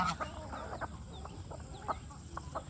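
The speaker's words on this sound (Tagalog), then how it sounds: "iilan sa mga manok at pabo natin nandito" Several chickens cluck softly and intermittently nearby on a farm, among turkeys, eating rice grain, short scattered calls over a low background murmur.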